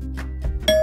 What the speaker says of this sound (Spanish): Cuando su timbre suena, ¿lo hace con un sonido clásico de ding-dong?